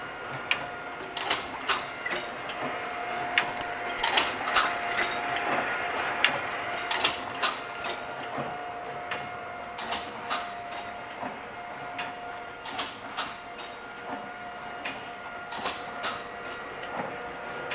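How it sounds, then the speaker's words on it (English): A BDM automatic wrapper bundler with folders and side sealers runs steadily, giving off a faint mechanical hum with repeated sharp clicks and clacks at an uneven rhythm. "Of course, your folders, your side sealers in there, operating."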